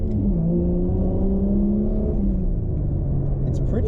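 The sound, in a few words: car engine accelerating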